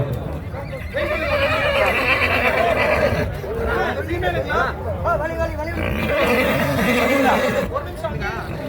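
A horse neighs loudly several times amid a crowd's chatter and nearby voices at a horse show at a temple festival.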